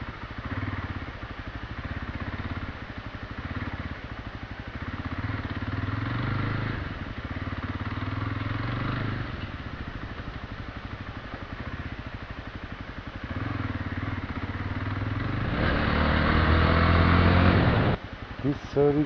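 A new Jawa Classic 350 motorcycle rides a rain-wet dirt road, its engine thrumming steadily close up with rhythmic pulses and rising toward the end, while someone talks over it.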